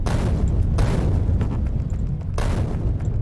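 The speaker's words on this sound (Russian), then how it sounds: "Какие-то взрывы вообще мега громкие получаются от этих скал." Rock blasting in the modded Factorio game (Krastorio mod) produces heavy, booming explosions, with two sharp bursts rising above a loud, continuous low rumble of game noise.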